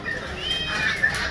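A cat meows in a short, drawn-out call, close and moderately loud, with some background noise.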